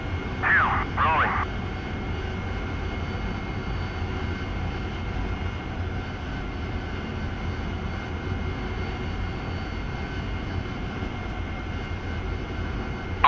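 Jet aircraft engine in the DCS World flight simulator, a steady loud roar as the jet rolls down the runway at sunrise, with a short radio-like voice burst near the start.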